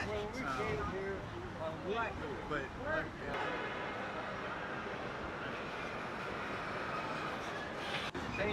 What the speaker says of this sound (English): here we go, my first ride on a Disneyland tram